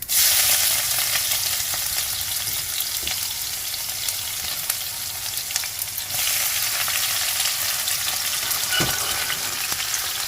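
Fenugreek seeds, asafoetida and chillies fry in hot oil for sambharo, giving a steady, dense sizzle that stays loud and close throughout, with no talking.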